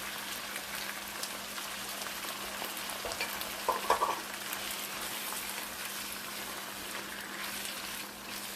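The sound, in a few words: fresh skinless tomato slices added to a frying pan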